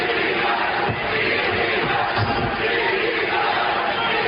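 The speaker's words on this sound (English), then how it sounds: "they loudly started chanting ECW, ECW several times" A large professional wrestling arena crowd roars and chants ECW in unison, a dense, steady wall of voices heard from a distance throughout.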